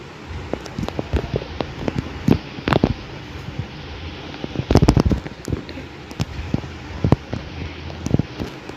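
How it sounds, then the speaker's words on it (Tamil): Grenade explosions in the Mini Militia mobile game sound as sharp, crackling blasts over a rough, windy game backdrop, with a dense burst of hits midway and scattered pops before and after. "கிரானைட்டு போடலாம்"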